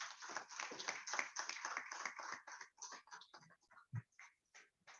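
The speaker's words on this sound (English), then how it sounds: "Please let's give her a round of applause." Audience clapping at an education technology meetup, a burst of many hands at moderate distance that thins out into scattered claps before fading.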